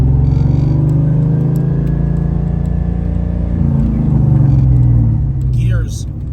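A 1992 Ford Mustang LX with an engine swap rumbles loudly at close range, a deep steady idle that swells slightly before dropping off near the end.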